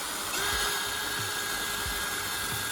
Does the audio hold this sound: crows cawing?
no